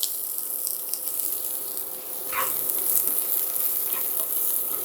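Chopped onion sizzles in a pan for a one-pot green curry with cashews, a loud steady hiss of frying with faint stirring and no talking.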